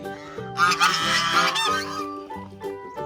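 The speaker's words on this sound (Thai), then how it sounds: "โอ้โหเป็ดมาแล้ว เยอะแยะเลยอ่ะ" A large flock of ducks honking and quacking loudly together, close by, with overlapping calls continuing throughout.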